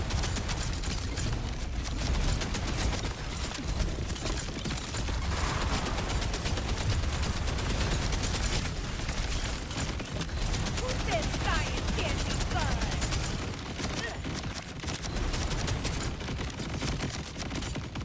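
Dense, continuous assault-rifle fire and combat noise from the video game Borderlands 4, loud and unbroken across the whole stretch, with a person talking now and then over the din.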